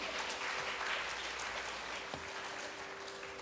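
Audience applause at an anniversary celebration, a steady wash of clapping from a crowd held at a moderate, even level for a few seconds, with no voices over it.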